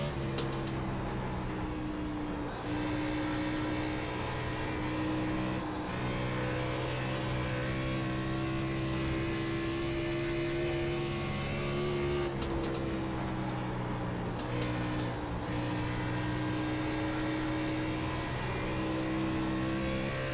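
Race car engine in a motion racing simulator at Dover, a continuous loud droning roar that rises and falls in pitch through shifts and corners, with no talk over it.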